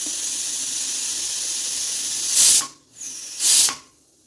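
A steady steam hiss from a pressure cooker being released slowly runs continuously, then swells into two loud sharp bursts of escaping steam separated by a brief pause.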